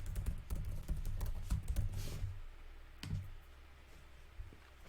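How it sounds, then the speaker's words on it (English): An email address being typed on a computer keyboard, a fast burst of close key clicks that thins out into a few scattered taps, with no voices. "type in an email that you want to"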